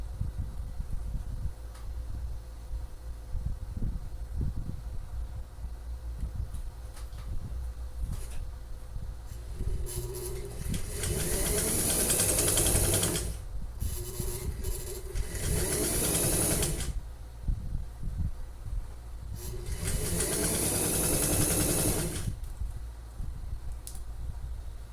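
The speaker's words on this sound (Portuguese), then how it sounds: "agora eu vou costurar." A sewing machine runs in three bursts of straight-seam stitching on a machine cover, each a whirring, rapid mechanical rattle of several seconds separated by quiet pauses, heard close and alone.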